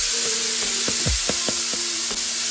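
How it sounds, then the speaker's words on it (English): Seasoned steaks sizzle steadily in a hot skillet, a loud, close, continuous frying hiss with a few brief utensil knocks and scrapes on top. "after we done seasoned up our steaks, you guys, now time to add it into our skillet"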